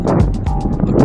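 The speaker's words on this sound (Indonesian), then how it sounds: "Asli sangat dingin sekali hembusan anginnya karena kita berada di lantai paling atas" Cold winter wind buffets the microphone on the top floor of a New York City building, a loud close rumble with gusty bursts, under brief talking.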